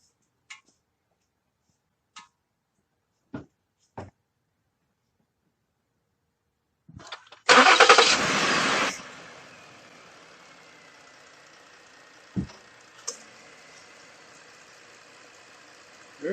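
A car engine cranks and fires after an oil change with Amazon Basics 5W20 synthetic oil, a loud burst at start-up settling into a steady idle, with a few faint ticks and clicks before and after.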